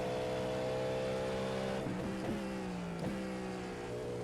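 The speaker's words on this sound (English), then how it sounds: "I want to go slower so I can hear the downshifts" A race car's engine in the iRacing simulator drones steadily, then drops through several quick downshifts, each a blipping pitch change, moderately loud with no talking.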